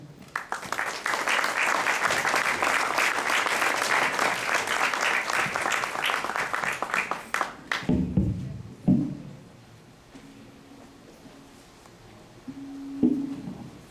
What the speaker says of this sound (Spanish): Le cedo el micrófono al doctor Eduardo Vicente Nibón Bolán, para quien pido un fuerte aplauso